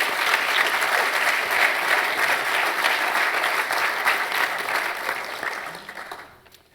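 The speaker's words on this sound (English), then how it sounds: "So give Josh another round of applause for being here." An audience at New College claps for Josh in a full, sustained round of applause that stays even for several seconds before tapering off into quiet.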